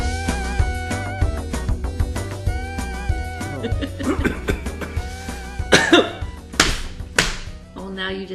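A person coughs repeatedly while slapping a knee, the harsh coughs and sharp smacks arriving in uneven clusters up close, with voices talking around them.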